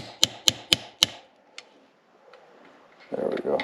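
A punch tool is tapped to drive a part into a Lexus ISF carbon steering wheel, with four sharp, evenly spaced metallic taps close by, then a fainter tap and some handling noise.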